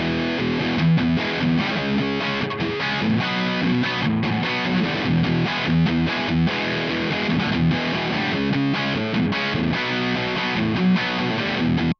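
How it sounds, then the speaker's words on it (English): An overdriven guitar tone through the Brainworx bx_rockergain 100 amp simulation plays a dense, distorted riff with rhythmic chugging, loud and steady with no talking. "Let's listen to what the overdriven channel sounds like."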